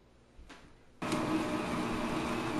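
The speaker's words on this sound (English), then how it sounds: "we're going to take 1/2 cup of brown sugar, and we're going to mix that in the mixer" An electric mixer creams butter and brown sugar. After a second of near quiet and a faint brief noise, the motor kicks in with a loud, steady whirring hum that holds to the end.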